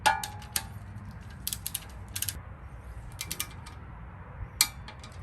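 A ratchet tightens the windage tray bolt on a 5.3 LM7 engine during an F-body oil pan install, producing short bursts of quick clicking separated by pauses, close and fairly quiet, with one sharper click near the end.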